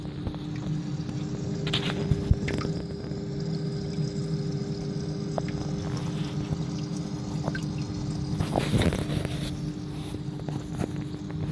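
A TMC Reef Skim 500 protein skimmer on a reef aquarium runs with a very quiet, steady low hum and soft trickle of water, heard up close with faint bubbling and a few small knocks.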